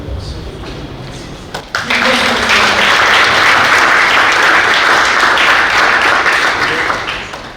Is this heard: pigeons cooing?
no